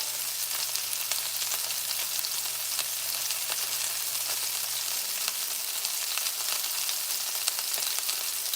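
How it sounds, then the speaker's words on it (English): Lamb meatballs fry in a pan with a steady, close broadband sizzle, scattered sharp pops of spitting grease throughout, and a faint low hum in the first half. "Be careful because the grease pops."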